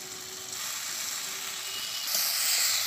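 Pre-fried potatoes meet hot oil and spice paste in a pan, giving a steady, fairly quiet sizzling hiss that grows a little louder near the end.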